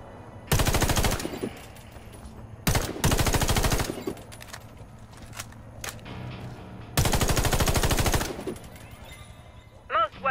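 Automatic weapon fire in the shooter game Warface comes in several long, loud bursts at targets, separated by short gaps with quieter single shots and mechanical clicks between them.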